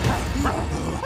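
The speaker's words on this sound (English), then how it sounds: "That dog looks kind of rabid." Cartoon dog in the Subway Surfers video game giving a quick loud yipping bark and whimper, close and brief over game background sound.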